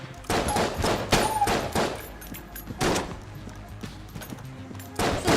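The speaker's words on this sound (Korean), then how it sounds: "아 근데 이건 샷건인가 보다." Shotgun blasts in Enter the Gungeon, a run of sharp bursts spaced irregularly over a few seconds, loud and close, with game sounds between shots and no talking.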